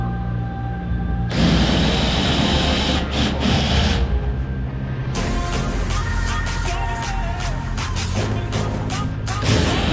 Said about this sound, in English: there are a lot of rivets to drill out